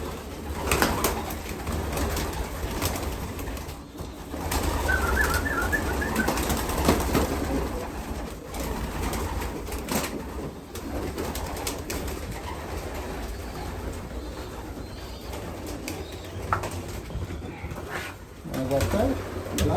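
Racing pigeons coo softly and steadily inside a loft, with now and then a rustle or flutter, while people talk nearby through much of the scene.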